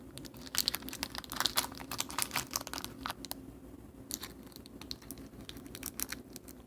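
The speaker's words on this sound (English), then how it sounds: "we are digging back into the screw box here of leftover TF2 parts" Someone rummages through a box of leftover screws and small parts, producing quiet, close, irregular clinks, rattles and rustles in quick bursts with no talking.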